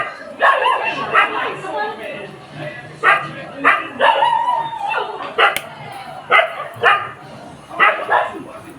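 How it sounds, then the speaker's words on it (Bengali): Dogs bark in clustered bursts, fairly loud, with a person talking in between the barks. "ওই যে ওখানে ডাকছে কুকুরগুলো"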